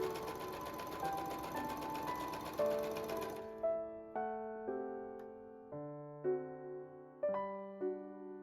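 A sewing machine runs in a steady rapid stitching burst for about three seconds while sewing a French side seam on a petticoat tier, then stops as soft tonal music continues.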